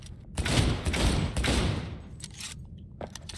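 Weapon fire in the Cyberpunk 2077 video game, a dense burst of rapid shots over the first two seconds that fades into quieter scattered clatter, with no talking.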